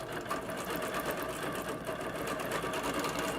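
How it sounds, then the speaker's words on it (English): A Bernina longarm Qmatic sewing machine head resumes stitching after a thread break, giving a steady, close, continuous mechanical whir and rapid needle chatter throughout with no talking. "we press go on the machine head, and it will resume sewing from where it broke."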